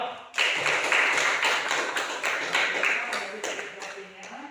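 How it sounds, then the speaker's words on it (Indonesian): Classroom applause for a student group after their presentation: many hands clapping steadily and fairly close, a dense continuous patter that starts abruptly and fades slightly toward the end. "kita beri aplaus untuk kelompok 2"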